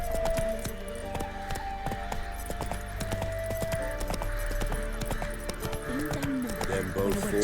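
Roach, the horse in The Witcher 3, gallops with steady, rhythmic hoof clops under continuous game music and ambience, the beats close and moderately loud.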